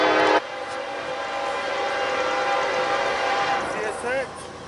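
A southbound CSX freight train rumbles past with a loud, sustained horn blast that sounds briefly at first, then holds under the steady rolling noise, with voices faintly in the background.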